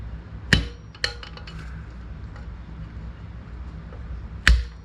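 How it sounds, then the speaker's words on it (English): A hammer taps a valve spring retainer on an LS cylinder head, giving three sharp metallic hits spaced apart over a quiet workshop background, the last one loudest. "I'm going to tap the top of that retainer"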